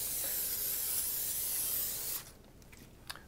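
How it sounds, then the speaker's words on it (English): Cooking spray hisses onto a pizza pan in a steady, close aerosol burst lasting about two seconds, then stops, leaving a few faint clicks and handling noises. "Little cooking spray on this pizza pan."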